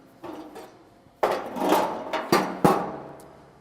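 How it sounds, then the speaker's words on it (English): Several sharp metallic planishing hammer blows land unevenly on the sheet metal of a 1952 MG cab, with bursts of clanging and ringing between quieter gaps. "We'll use a planishing hammer and get this to a virtually primer ready condition."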